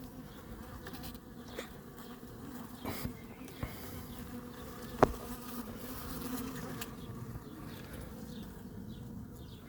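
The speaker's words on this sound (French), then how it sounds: "Elles sont grosses ces abeilles." Large bees at an apiary buzz in a continuous low drone that rises and falls as individual insects pass close, with soft clicks and a brief nearby tap, and no voices.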